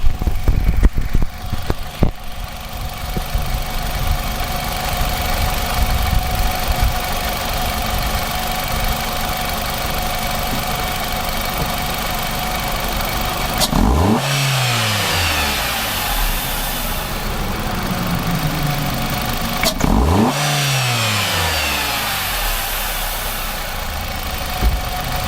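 A Nissan Altima engine with a suspected misfire idles steadily and close, then is revved sharply twice, each rev climbing and falling back to idle.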